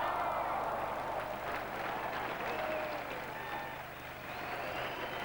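A large indoor crowd at the Paris-Bercy Rock Masters climbing competition breaks into sustained applause and cheering for a climber's move, a dense, steady roar of clapping that dips briefly and then swells again.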